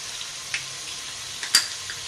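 Ground onion paste frying in a pan for a home-cooked shola dish, giving a soft, steady sizzle with a few sharper pops and clicks, faint and close, with no talking.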